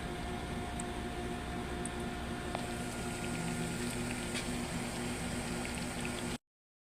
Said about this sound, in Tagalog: So ayan, nagpiprito kami ng saging.